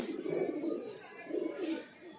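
Pigeons at a breeder's loft coo in two soft, low rolling phrases, close but fairly faint, with no one talking over them.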